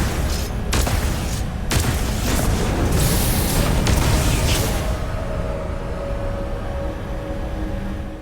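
Mounted gun on a REV-8 vehicle in Starfield firing in a dense, loud sustained barrage with a few sharp bursts early on, tapering into a rumbling tail.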